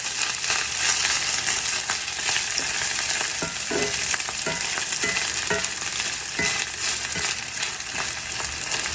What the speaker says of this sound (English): Once you get the rice in the skillet, go ahead and flatten it out into an even layer. Press it down into the skillet.